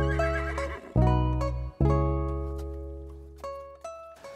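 A horse on an equestrian country estate near Pretoria gives a loud, close whinny, with several drawn-out neighing bursts in a row and no talking over them.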